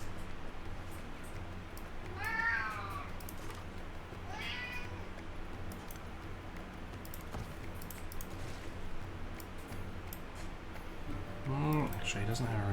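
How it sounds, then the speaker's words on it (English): A cat meows twice in the background behind a video game stream, with a quick rising meow near the start and another soon after, over steady keyboard typing and a soft room hum. "Did you hear the cat?"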